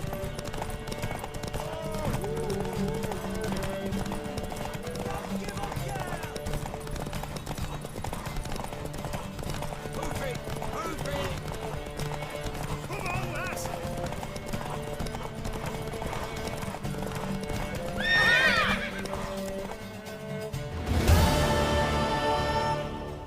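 A horse gallops in The Witcher 3: Wild Hunt, with steady rhythmic hoofbeats running under game music and voices for the whole stretch, then a brief neigh near the end.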